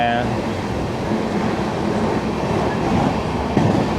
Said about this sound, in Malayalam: കണ്ണൂർ ആലപ്പുഴ എക്സിക്യൂട്ടീവ് എക്സ്പ്രസ് ആണിത്.